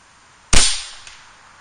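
One sharp, loud crack from an Air Venturi Avenger .25 air rifle fired outdoors at a target about 76 yards away, followed by a fading tail and a faint later tick, alone with no talk.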